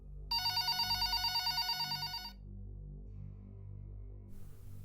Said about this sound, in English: the phone began to ring a second time